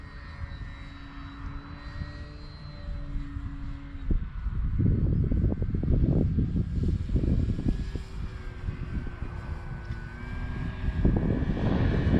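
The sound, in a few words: model airplane engine running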